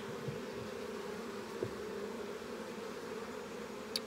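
Honeybees droning around an open hive during a frame inspection, a low, steady, continuous hum at close range with a few brief louder buzzes as single bees pass near, and no talking.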